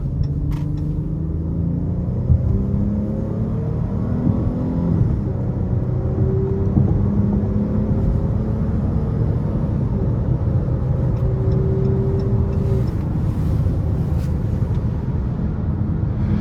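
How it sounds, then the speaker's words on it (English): From inside a 2023 Chrysler 300 Touring L with a 3.6 V6, the engine pulls hard on an interstate on-ramp, its deep drone rising in pitch through the gears under steady road and wind rumble. "I'm gonna give it a little throttle getting on the interstate here"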